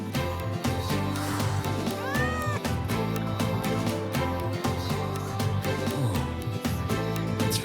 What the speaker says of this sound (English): It doesn't seem to be a cat registered with the Academy.